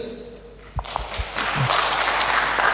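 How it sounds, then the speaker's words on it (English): Applause from a crowd builds quickly after a few stray claps and holds steady, dense and fairly loud. "A round of applause for 3 fantastic speakers."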